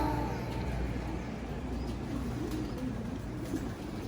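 Breeder pigeons in a simple loft give low, steady cooing that continues close by throughout, with a faint background hum and rustle.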